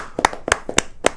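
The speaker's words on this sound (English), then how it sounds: "Let's clap for you." Four slow, evenly spaced claps ring out close and crisp in a quiet room during a talk about a basketball club in Accra, Ghana, each clap a sharp isolated burst.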